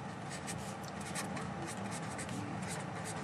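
A pen scratches steadily across paper while math notes on real numbers x and y are written out, a close, continuous scribbling with no talk.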